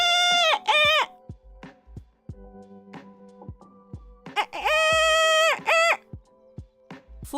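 A person imitates a rooster crow twice with warbling, strained vocal calls, separated by soft clicks and quiet handling sounds.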